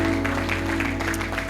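A church congregation claps together in steady, dense applause over a sustained musical drone, with no break for the whole moment.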